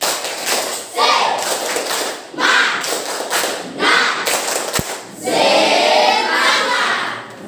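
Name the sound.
class doing a spirit clap (tepuk semangat)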